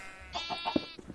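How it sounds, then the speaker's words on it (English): Short sheep bleat from the Minecraft video game, a single wavering call of about half a second that is clear but fairly quiet, with no talking over it. "That is our sheep. There he is, nice and clear now."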